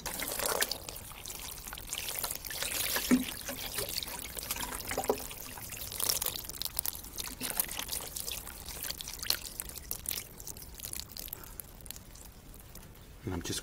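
Water poured onto dry citrus tree plants in containers of soil, a steady trickling and splashing that runs throughout with small bursts and drips, close and moderately loud.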